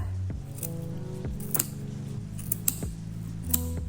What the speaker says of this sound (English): I'm going to insert my scissors kind of in the middle of the spine. I'm just gonna cut across.